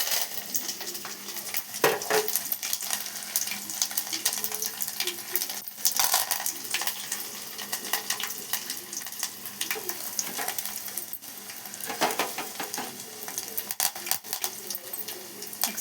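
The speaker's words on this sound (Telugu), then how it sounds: "ఎల్లిపాయలు, కరివేపాకు, జీలకర్ర, ఆవాలు మొత్తం పోపు దినుసులు అన్నీ వేసేసుకున్నాము" Garlic, curry leaves, cumin and mustard seeds tempering in oil for a tomato and red lentil curry, heard as a steady faint crackle with repeated metallic clinks and scrapes of stirring, and occasional louder knocks.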